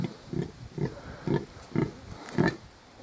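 Mangalica sow grunting in a steady series of about six low, short grunts spaced roughly half a second apart, close by, with no talking.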